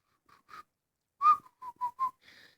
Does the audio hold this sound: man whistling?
yes